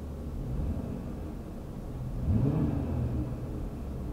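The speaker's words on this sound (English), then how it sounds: "It sounds all right. It's a V6." A 2020 Dodge Challenger SXT with a V6 engine runs with a steady, low rumble, rising briefly in a mild rev partway through; the idle stays fairly quiet and smooth throughout.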